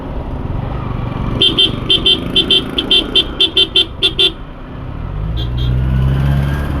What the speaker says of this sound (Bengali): এটা হচ্ছে মুচিপাড়া বাস স্ট্যান্ড।